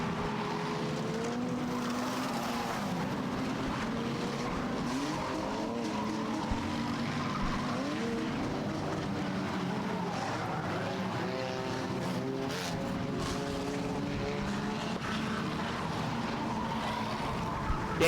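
Enduro race cars lap Star Speedway in a steady, droning chorus of engines with rising and falling pitch as cars pass, heard from a distance at moderate loudness.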